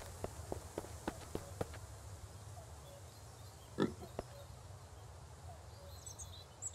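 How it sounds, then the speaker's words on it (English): Pig grunts in the survival game Mist Survival: a few short, quiet grunts in the first seconds, with brief louder sounds in the middle, over a low, steady background hum. "Sounds like a pig."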